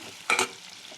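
Cinnamon, whole spices and cashews hit hot oil in a pan, giving one short, loud crackling burst of sizzle that quickly settles back into a faint background hiss.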